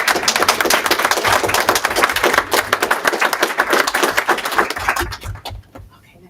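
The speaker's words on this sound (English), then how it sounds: "Can we give them a round of applause?" An audience at a public presentation applauds employees with dense, loud clapping that rings for several seconds and then tapers off, with a few voices underneath.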